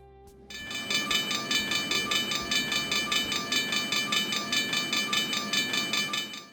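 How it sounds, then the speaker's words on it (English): Two big GE diesel locomotives lead Norfolk Southern NS-282, a train of empty auto racks on a mainline, with a loud steady roar that sets in after a quiet start and holds with a pulsing throb. "We hear the roaring sound of two big GEs, and the scanner tells us it's NS-282, empty racks on their way to be loaded"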